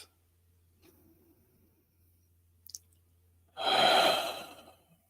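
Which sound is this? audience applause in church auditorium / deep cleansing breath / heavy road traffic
deep cleansing breath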